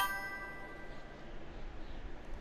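A short bright electronic chime from The Long Drive video game rings out once over a low, steady rumble of background noise, fairly quiet.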